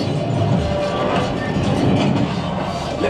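Rumbling, clattering train effect on the Millennium Falcon ride at Disneyland, a steady loud mechanical roar that fills the short stretch with a low ride rumble underneath.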